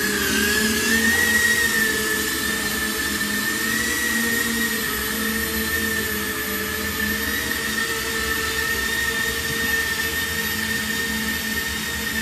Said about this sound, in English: I'm gonna start giving a little bit of throttle. The propeller will start